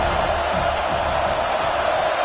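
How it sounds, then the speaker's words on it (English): Dense, continuous roar of a large crowd filling a stadium at a college football game, steady and loud without distinct voices standing out. "This crowd bringing the energy and noise early"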